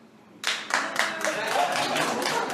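A studio audience at a live talk show starts clapping abruptly, a few distinct claps swelling into steady applause that carries to the end.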